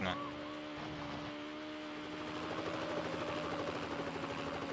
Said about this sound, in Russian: Так, вертолет появился.